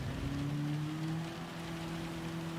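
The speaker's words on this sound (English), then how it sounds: "It's raining now. Now it's raining." Steady wash of rain in the racing game Gran Turismo 7 with dynamic weather, a dense, even patter over a low sustained car engine drone, continuous and moderately loud with no talking.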